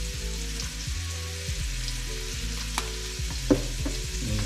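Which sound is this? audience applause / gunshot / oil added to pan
oil added to pan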